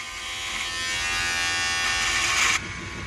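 An electric shaver buzzes close and steady while shaving a beard, its pitch shifting slightly under load before cutting off abruptly near the end.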